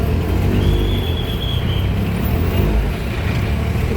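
Steady road traffic at Sangameshwar bus station, with a continuous close rumble of engines and passing vehicles that stays loud throughout, plus a faint whine drifting above it.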